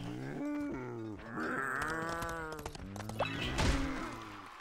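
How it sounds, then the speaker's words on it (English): Cows in the Toy Story 3 video game moo and bellow in a string of drawn-out, tonal calls that overlap and rise and fall, fairly close and loud, with no talking. "I always keep hitting these cows"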